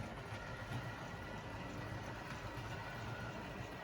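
A Wrenn model train locomotive, the W2238 Clan Line, rolls steadily along the track with a soft, continuous rumbling whir, fairly faint and even throughout with no voices.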